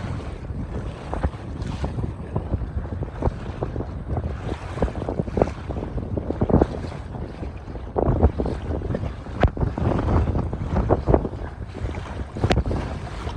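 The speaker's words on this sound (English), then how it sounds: "you can hear that wind whipping" Strong wind buffets a small fishing boat running close to shore on Lake Lavon, Texas, a loud continuous roar of gusts and microphone wind noise mixed with water splash and hull slapping, with no talking.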